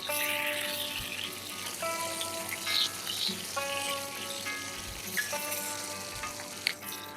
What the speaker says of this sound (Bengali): এইভাবে 1 থেকে 2 বার মাছগুলোকে উল্টে পাল্টে ভেজে নিতে হবে।